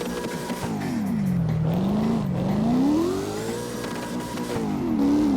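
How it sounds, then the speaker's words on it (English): A deep, throaty V8 engine rumbles and revs up and down in smooth swells in CarX Drift Racing Online, with a synthetic, game-like quality and no talking. "When this car idles, and when it drives as well, it does sound like a V8 motor."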